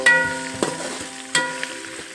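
Peanuts fry in a pan for a flattened-rice snack, with a soft sizzle and a few sharp scraping stirs against a faint tonal background.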